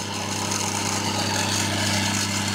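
A three-phase electric motor with one winding connected in reverse hums loudly and steadily, a strong continuous low drone with no talk.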